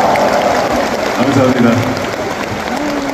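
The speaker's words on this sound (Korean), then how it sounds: "일단 손녀 따님분은 정말 이쁘게 잘 좀 잘 크라고 일단 큰 박수 한 번만 보내주시겠어요?" A live audience applauds in a broad, continuous patter while a nearby voice speaks over the clapping for most of the few seconds.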